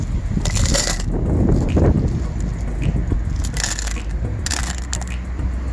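Continuous clattering and crunching of many small polished rocks being poured back into a rock tumbler and jostled together, loud and close, with brief bursts of rattling.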